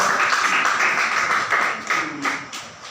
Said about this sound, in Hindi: तो चलिए सही है, मैम के लिए भी ताली हो जाएगा।